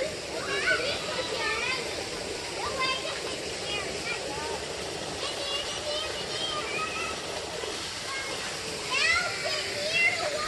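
Small waterfall spilling into a reservoir, a steady broadband rush of falling water running throughout, with children's voices and chatter audible in the background.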